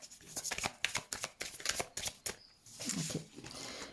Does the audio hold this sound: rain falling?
no